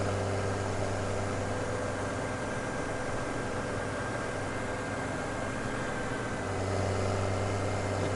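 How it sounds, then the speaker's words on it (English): Steady engine roar from a farm vehicle in Farming Simulator 17 on the Sosnovka map, a broad continuous drone with a low hum that dips briefly and then swells again near the end, with no talk. "I do like the engine noises on this new game."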